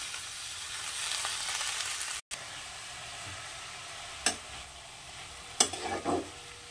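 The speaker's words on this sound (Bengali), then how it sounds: "আমি নরম কচি শাক বলে এতে কোনো জল দেব না, এমনি নেড়ে চেড়ে একটু সিদ্ধ করে নেব।" Tender young spinach is stirred in a hot kadai without water for palak kochuri. Quiet, steady sizzling runs close by, with a brief dropout and a few sharp scrapes and knocks of the spatula toward the end.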